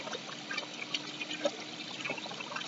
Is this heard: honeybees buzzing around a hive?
no